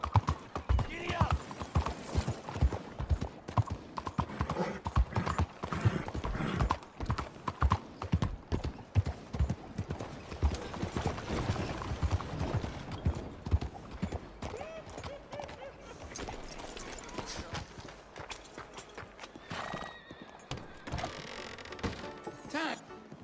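A horse gallops in Red Dead Redemption 2, with a rapid, continuous clatter of hooves near and loud throughout. A voice speaks partway through.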